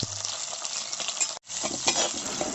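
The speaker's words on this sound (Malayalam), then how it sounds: "കുറച്ച് പച്ചമുളക് കീറിയതും കൂടെ അതിലിട്ട് കൊടുക്കാം. ഇത് ചെറുതായിട്ടൊന്ന് വഴറ്റിയെടുക്കാം." Slit green chillies with fenugreek seeds sautéing in hot oil in a pan for Kerala fish curry, a continuous bright sizzle with stirring scrapes and a brief cut midway.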